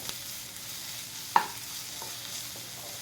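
Misal ingredients, a blended masala paste, stir-fried in a pan for Kolhapuri misal, a soft low sizzle with one sharp spoon knock on the pan partway through and a few lighter scrapes, close and quiet.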